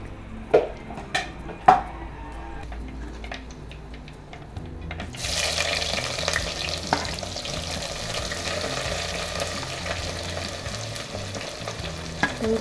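Fenugreek and mustard seeds hit hot oil in a clay pot for a fish kuzhambu, with a few sharp pot and spoon clinks at first, then a sudden loud, continuous sizzle and crackle close up.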